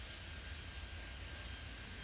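A small plane's engine in Airport Madness 3D drones steadily for the whole moment as a constant, faint, broadband hum that holds level without any breaks.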